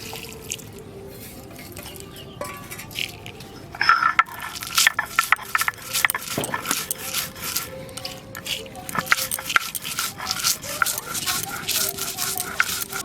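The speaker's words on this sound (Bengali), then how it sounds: "মশলাটা একটু ঠান্ডা হয়েছে, এখন বেটে নেব।" A cooled spice mix for khichuri is ground into a paste, giving uneven scraping and rubbing strokes, close and moderately loud, with a voice talking over it.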